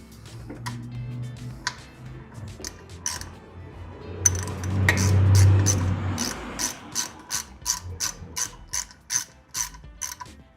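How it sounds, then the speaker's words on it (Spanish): Torque wrench tightening an oil drain plug to 45 Nm during vehicle maintenance, first some handling clatter, then a close, rapid run of sharp ratcheting clicks in a regular rhythm, with no talk. "Y le vamos a dar el torque de 45 Nm que especifica el fabricante"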